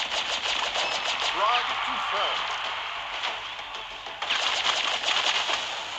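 Rapid automatic gunfire from the Medusa weapon with infinite ammo in a shooter video game, sustained bursts running nearly continuously with a brief lull, layered under a person talking.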